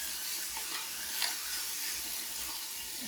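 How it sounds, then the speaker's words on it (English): Pork sautéing in an Instant Pot, browning with a steady soft sizzle and hiss, close and even throughout, with a brief stir or scrape near the middle and no talking. "I just want to get a little browning on them, a little saute"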